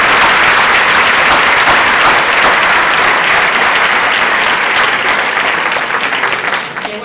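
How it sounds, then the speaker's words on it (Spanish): An audience at a school graduation applauds loudly and steadily after bagpipers play, a dense wash of clapping that holds for several seconds before starting to taper off. "imos darlle un forte aplauso aos nosos gaiteiros Lara Jiménez e Manuel Rodríguez."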